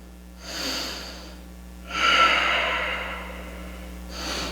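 Slow, audible breaths during a yoga hip stretch, a long inhale-exhale swell after a shorter one, close and soft over a faint steady hum, with no talking.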